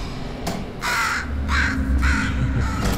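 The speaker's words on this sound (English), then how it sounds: "The bird." A crow in the video game Portal Stories: Mel caws loudly and close, four or five harsh calls in quick succession with short gaps, over a low background hum.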